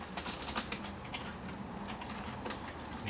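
Computer keyboard typing on a laptop setup while entering a command, with quick scattered key clicks near and fairly faint over a steady background hiss.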